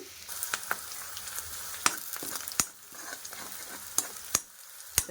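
Raw prawns sizzling steadily in a hot pan while being stirred, a soft continuous fry punctuated by sharp scraping clicks of the spoon against the pan, close and alone without speech.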